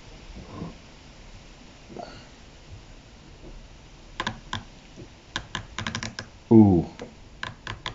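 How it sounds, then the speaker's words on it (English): Steeldive watch ceramic bezel insert turned by hand, giving close, crisp clicks in irregular runs, some landing in quick pairs, with a brief voice exclaiming once. "Allegedly 120 clicks, but what you'll find is the clicks are so close together, it seems to do two clicks at once and then jump to the next two."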